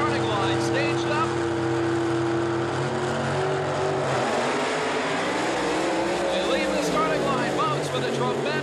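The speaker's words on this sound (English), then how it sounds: "With a tremendous launch and starting to pull away from Williamson all the way down the quarter mile" Corvette and Dodge Daytona drag racing at the 1984 World Finals in Pomona, loud engines roaring and revving down the quarter mile, with a pitch sweep midway, under continuous commentary.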